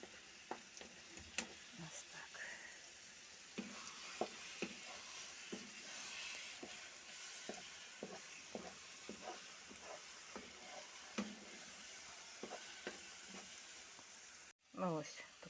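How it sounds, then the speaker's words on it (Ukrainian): Onion fries in oil in a frying pan and is stirred constantly while cooking for eggplant caviar. A steady sizzle runs throughout, broken by repeated scraping stir strokes and a brief louder clatter near the end. "Треба постійно мішати, бо пристає."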